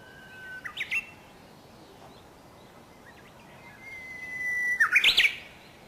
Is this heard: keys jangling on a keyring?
no